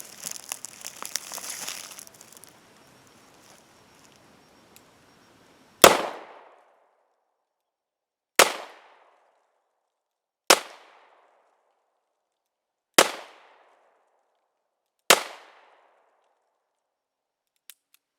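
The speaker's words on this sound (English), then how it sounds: "So take a few shots here." Five sharp, loud gunshots from a Smith & Wesson 642 snub-nose concealed-carry revolver, fired one at a time at a target 7 yards away with a couple of seconds between each, after a brief rustle of handling.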